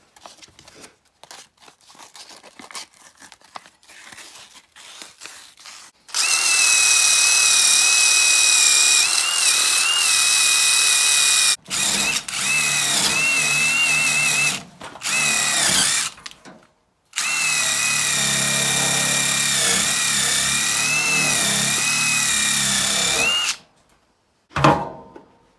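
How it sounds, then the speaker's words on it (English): A part on a roughly 11-year-old Maytag 3000 MCT series dryer is power-sanded with 220 grit plumber's cloth, a loud motor whine running in three long bursts separated by short quiet gaps and faint handling noises, with no talking. "So I'm just gonna take 220 grit and sand this."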